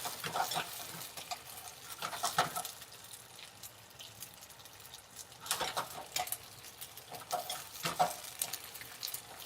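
Vegetables blister and sizzle in a hot pan tossed wok-style, with soft frying hiss broken by repeated bursts of stirring and scraping, fairly quiet and close.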